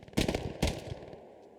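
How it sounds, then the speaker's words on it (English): Machine gun fire in the World War II shooter Hell Let Loose, with two sharp bursts of close, loud rapid shots about half a second apart, each trailing off into a fading echo. "Oh my god, just the machine gun fire."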